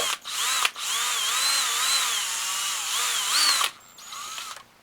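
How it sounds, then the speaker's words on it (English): A power drill with a 7/64 bit runs steadily for several seconds, its whine rising and falling in pitch as it bores a hole, then stops and briefly restarts. "and drill another hole"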